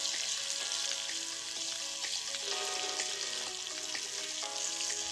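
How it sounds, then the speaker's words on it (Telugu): Curry leaves and two dried red chillies sizzle in hot oil as a tempering for tomato pickle, a continuous close crackle and spitting with scattered pops and no one speaking. "కరివేపాకు వేసుకోవాలి. 2 ఎండుమిర్చి వేసుకోవాలి. ఈ తాలింపు వేగినాక"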